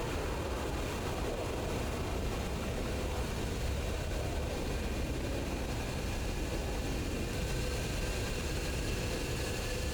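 The twin jet engines of an F-15C idle in the DCS flight simulator, a steady, continuous low rumble and whine with a faint high tone, heard alone throughout.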